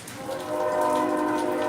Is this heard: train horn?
yes